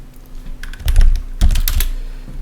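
Quick bursts of keystrokes on a computer keyboard while typing %appdata%, close and crisp, clustered into a few rapid groups over two seconds.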